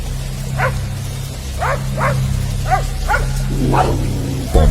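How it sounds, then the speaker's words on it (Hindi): A Pomeranian yips and whines in short, repeated bursts over steady rain-like noise and a low hum, with a sudden thump near the end. "पॉमी के भौंकने और रोने की आवाजें"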